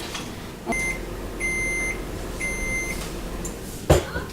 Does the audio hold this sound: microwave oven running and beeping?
yes